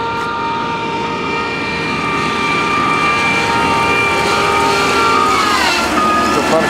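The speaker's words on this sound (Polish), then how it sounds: "Koparka marki Volvo." A Volvo excavator moving across a construction site gives a loud, steady, droning engine hum with a sustained whine that dips slightly near the end.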